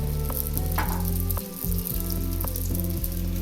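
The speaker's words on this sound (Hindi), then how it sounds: "तो सबसे पहले हम बैंगन को फ्राई करते हैं" Whole eggplants with stems frying in oil for Hyderabadi masala baingan, a loud, dense, steady sizzle up close with a few light clinks, with no talk.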